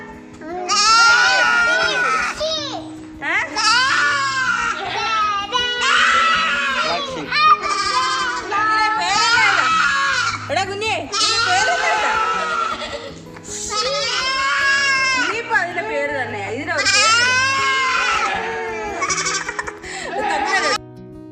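Goats newly kept as pets at a family home bleat repeatedly in quavering, wavering calls, loud and close, one after another with little pause across the whole stretch.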